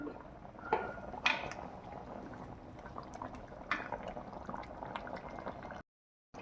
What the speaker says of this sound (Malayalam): ഇനി അരവ് തിളക്കണം കേട്ടോ നമ്മൾ ഈ വറുത്തരച്ചതിൽ ഇങ്ങനെ തുള്ളി കളിക്കുവാണ് നമ്മുടെ ചിക്കൻ